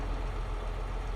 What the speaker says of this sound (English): Well, I found my Holland tractor.